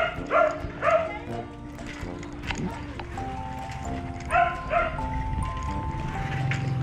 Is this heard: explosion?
no